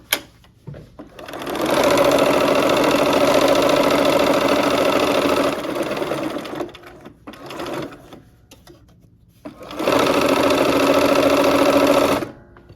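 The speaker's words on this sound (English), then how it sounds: "let's sew these groups together" A sewing machine stitches quilt block pieces together in two long steady runs of close, loud, even whirring, with a brief burst and pause between them and no talking.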